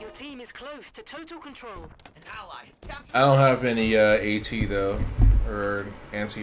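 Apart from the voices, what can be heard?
No distinct noise like a dog, phone or traffic.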